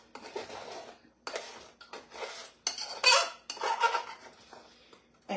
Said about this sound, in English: and you keep stirring it.